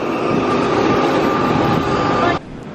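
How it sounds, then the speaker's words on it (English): A metro train carriage rumbles and hums in a loud, steady roar from inside the car, then the noise drops off abruptly near the end. "We're on the metro."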